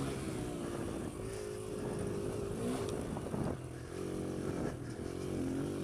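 A Kawasaki KLX140L dirt bike engine runs nearby with a rough, buzzy tone, rising and falling through several short revs over a steady idle, with no speech.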